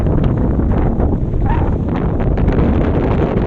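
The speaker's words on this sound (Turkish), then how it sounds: "oldukça rüzgarlı, dalgalı bir deniz var." Strong wind buffets the microphone in a steady, loud roar, with a broadband rush of wind over a rough sea on the Dardanelles near Çanakkale throughout and no voices.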